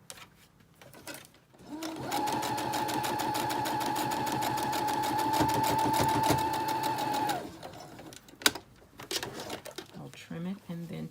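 A sewing machine runs a continuous, even stitch for about five seconds across the bottom of a piece of fabric with a 5/8 inch seam allowance. Brief handling sounds and a voice follow after it stops.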